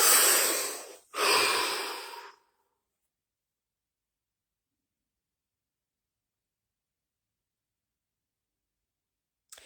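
A slow, deep breath taken in and let out, close and alone, in two strong whooshing bursts with a short gap between them, then silence.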